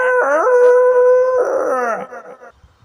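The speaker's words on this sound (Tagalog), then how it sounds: "Ang tahol at alulong ni Sally ay bumasag sa katahimikan ng gabi" A dog howls loudly and close at night, a long wavering drawn-out cry that breaks into yipping whimpers before fading out.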